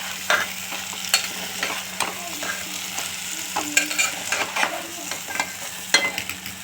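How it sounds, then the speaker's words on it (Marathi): A spoon stirs crushed peanut powder into onion and tomato in a pan for eggplant amti, with steady scraping and clinking strokes over a soft continuous sizzle. "पुन्हा हलवून घ्यायचं"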